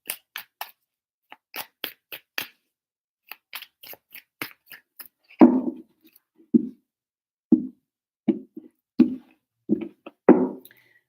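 Tarot cards shuffled by hand, first a run of quick crisp riffle-like snaps, then a series of separate muffled thumps as the deck is cut and tapped, close and clear with no talk.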